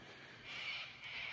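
Distant flock of lorikeets or corellas screeching and chattering by the Murray River at night, a continuous high-pitched din rising and falling, faint and far off.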